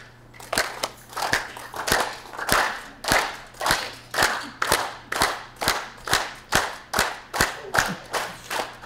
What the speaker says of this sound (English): We clap like with open hands like this